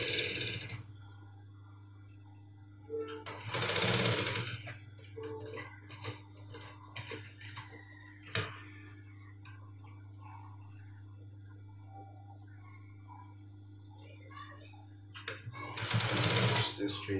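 A sewing machine stitches a cargo pocket in short, loud bursts of running stitches separated by quiet pauses, with a steady low hum underneath throughout.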